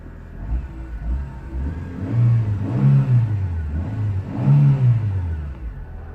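A 2007 Ford Ka 1.3 petrol engine, recently revived after two years parked up, idles with a low rumble and is revved in two swelling pulses, close and steady.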